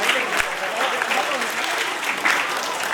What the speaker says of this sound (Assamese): সকলোৱে এটি হাত তালি দিব।